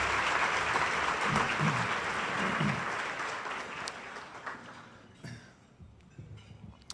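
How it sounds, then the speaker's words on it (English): An audience at a small business awards event applauds a young violinist, a full burst of clapping that thins and fades toward the end, leaving scattered claps. "Please give her a round of applause."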